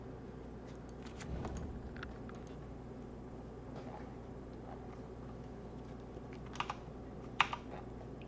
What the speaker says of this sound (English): It's good to know that I'm not the only one that enjoys a nice mechanical keyboard.